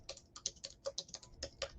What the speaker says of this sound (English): Yes, I am typing on the screen.